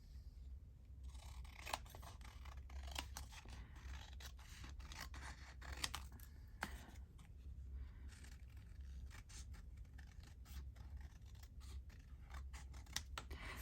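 Scissors snip steadily around the edges of a handmade Christmas journal page, trimming off excess paper in a run of quick, close, crisp cuts with soft rustling between them.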